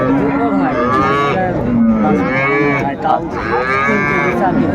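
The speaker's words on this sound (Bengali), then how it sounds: "গাভী বাছুর আমরা দেখছিলাম" At a rural cattle market in Dinajpur, a dairy cow with her calf moos loudly and repeatedly in close, harmonic calls that run through the whole stretch.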